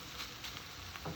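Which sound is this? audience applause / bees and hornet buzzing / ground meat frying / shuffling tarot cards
ground meat frying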